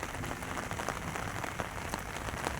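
Heavy monsoon rain pours down in Gujarat, a dense, steady hiss of drops striking surfaces nearby with no voices over it.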